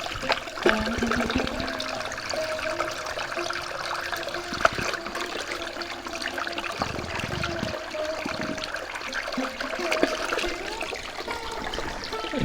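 Cold spring water running down from the hills beside a Tripura hill village in Bangladesh, a steady close trickle and splash that continues unbroken throughout with a few louder bursts.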